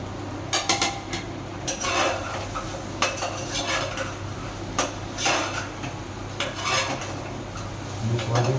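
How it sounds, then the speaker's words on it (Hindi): Soybeans, peas and tomato being mixed in a pot for soya vegetable pulao, with a spoon scraping and clanking against the metal in repeated irregular strokes over a low steady background hum, close and fairly loud. "सोयाबीन, मटर को सब मिक्स कर दिया"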